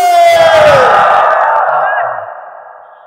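A large crowd at an outdoor Islamic sermon shouts takbir together in one loud, swelling response that echoes and then fades over about two seconds.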